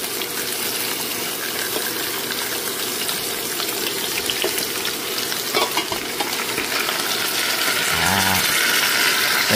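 Beef back ribs frying in a pan with carrots, a loud steady sizzle under bursts of stirring, growing a little stronger toward the end with a brief low rumble.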